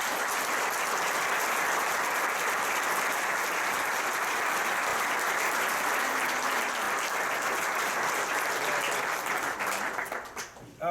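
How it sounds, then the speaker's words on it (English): An audience at a talk with a WWII Hitler Youth member and a US Army combat nurse gives a long, even round of applause, dense and steady for about ten seconds before tapering off. "Let's give a round of applause."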